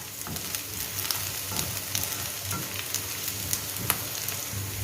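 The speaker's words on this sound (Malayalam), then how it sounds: "നമുക്കതിലേക്ക് എടുത്ത് വെച്ചിരിക്കുന്ന പച്ചമുളകും കറിവേപ്പിലയും ചേർത്ത് കൊടുക്കാം. ഒന്നും കൂടി വഴറ്റിയെടുക്കുക." Onions sautéing with green chillies and curry leaves for a Kerala mutton curry, a steady close sizzle with light scraping stirs scattered through, no voices.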